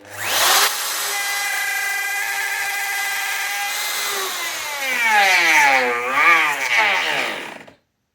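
A handheld router cuts into wood in a workshop, giving a loud, steady high whine that dips and wavers in pitch as the bit bites through the piece, then cuts off abruptly.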